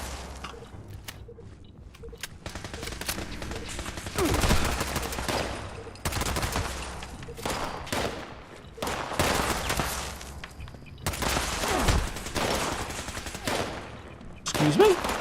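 Dense bursts of automatic gunfire and rapid shots in Fallout 76, loud and sustained with overlapping volleys and heavy low thumps, close and continuous throughout with brief gaps.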